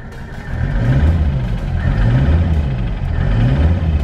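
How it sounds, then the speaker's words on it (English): A diesel car engine revs up after a Seafoam treatment, with a low rumbling drone that rises and falls in repeated throttle blips, heard close and alone. "I can actually rev the car."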